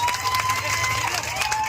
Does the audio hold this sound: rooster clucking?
no